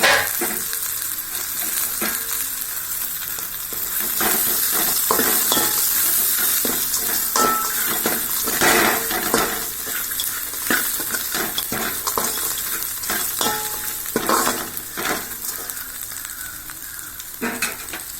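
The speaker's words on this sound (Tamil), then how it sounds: "எல்லா வத்தலையும் போட்டு வதக்கிடலாம். கருவேப்பிலை போட்டுடலாம்." Dried vathal berries and curry leaves sizzle steadily in a hot oiled pan as they are stirred, a continuous loud frying hiss with occasional scraping, close up and without talk.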